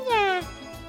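A cat in the video game Trails to Azure gives a single short, clear meow with a falling pitch, near and distinct, followed by faint background sound.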